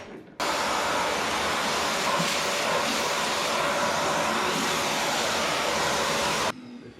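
A Hoover vacuum cleaner runs on a Volkswagen Polo Dune, starting abruptly with a loud, steady whooshing roar that holds for about six seconds and then cuts off.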